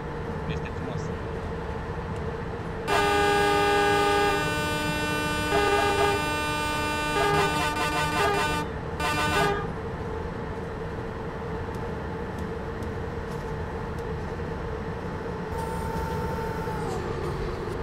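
A train horn sounds in Train Simulator as a greeting to an oncoming train, a loud sustained two-tone blast lasting several seconds and cut short, followed by a brief second toot over steady engine rumble.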